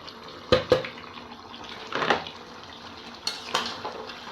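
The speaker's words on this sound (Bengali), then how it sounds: "এখন মাংসটা দিয়ে দেব। এখন আমি ডালটা দিয়ে দেব।" Meat and lentils are dropped into a cooking pot, producing a few sharp metallic clanks and clinks of utensils against the pot, with a soft wet shuffle between them.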